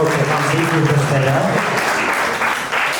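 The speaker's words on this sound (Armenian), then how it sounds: "Ուզում եմ, որ բարձր ծափահարություններով ողջունենք Տիկին Սուսաննային" Loud, steady applause fills the room at an engagement celebration in Dilijan, with voices and a tonal, music-like layer running beneath the clapping for the whole stretch.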